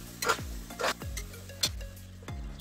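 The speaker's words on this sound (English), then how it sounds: "Now scrape and mix everything well." A spatula scrapes and mixes tomatoes and spices in a pressure cooker, making four or five distinct scraping strokes with a soft sizzle underneath, close and fairly quiet.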